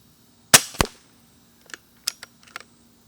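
A BSA R10 SE .22 air rifle fires one sharp close crack followed by a second snap, then a few lighter clicks and clacks of the action being worked.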